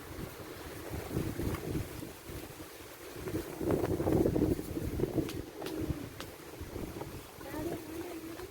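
Strong morning wind buffets the microphone outdoors, rising and falling in loud gusty rumbles with a peak midway and a few sharp knocks, while no speech is heard.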